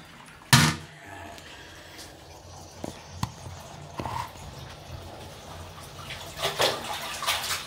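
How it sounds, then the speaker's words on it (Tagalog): Laundry being hand-washed with soap and water: scattered splashes, sloshing and rubbing in a tub, with one sharp knock early on and busier watery churning toward the end. "lagyan natin dito sa sabon, lumambot lang siya, hindi na siya mahirap kusutin"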